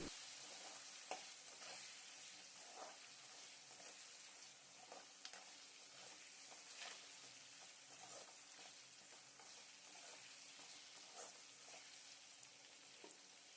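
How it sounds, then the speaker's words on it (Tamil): Onions and curry leaves sauté quietly in a pan for an egg masala, a soft steady sizzle with faint irregular stirring taps throughout, low in level and free of speech. "அதையும் இதில் சேர்த்து நல்லா வதக்கி விட்டுறலாம்."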